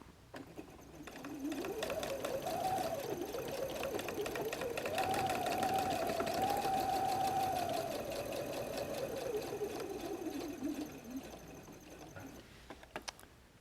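A sewing machine stitches a messenger bag with purple bobbin thread and green top thread, running in one continuous steady whirring burst for about ten seconds, close and alone.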